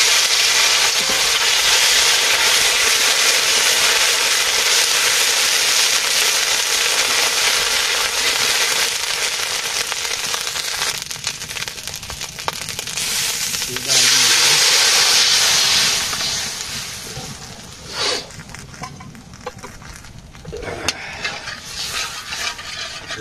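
A fish head fries in hot oil in a village kitchen as ginger is added, giving a loud, steady close sizzle and hiss that briefly swells and then thins into crackling pops.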